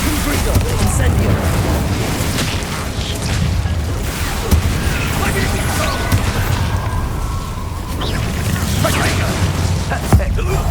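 Spell blasts from Confringo and Incendio in Hogwarts Legacy, a steady barrage of booming, crackling bursts and rumbling impacts layered with game effects, loud and continuous throughout.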